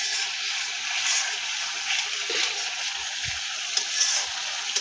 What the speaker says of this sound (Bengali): মশলা কষানো প্রায় শেষের পথে